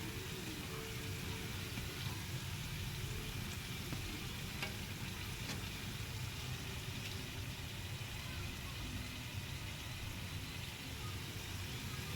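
Steady sizzling of saba banana cue frying in hot oil, continuous and even throughout with no talking.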